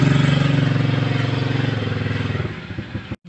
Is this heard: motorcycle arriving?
yes